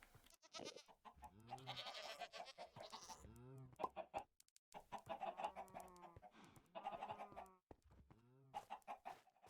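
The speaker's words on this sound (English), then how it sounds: "There's a third goat? There's 4?" Goats bleat repeatedly in a Minecraft-style game, a string of wavering, nasal cries overlapping one another at close range, fairly steady across the clip with only brief gaps.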